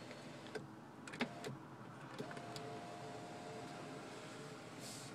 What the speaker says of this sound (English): There's a one-touch moonroof, sliding and tilting.